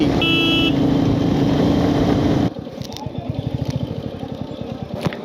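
A motorbike ridden along an Indian highway on a long trip, its engine running loud and steady up close, then settling into a lower, pulsing idle or slow roll with wind noise.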